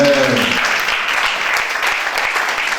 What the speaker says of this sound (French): On acclame le Seigneur pour le couple.